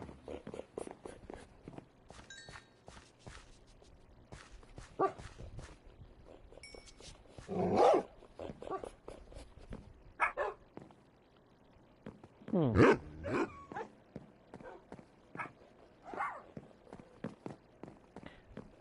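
A pack of tamed wolves in Minecraft Bedrock Edition gives scattered short barks and yips, a few louder bursts standing out over soft game footsteps and background sounds, with no talk.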